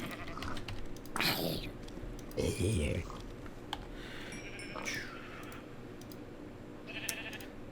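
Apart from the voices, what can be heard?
sheep bleating in Minecraft video game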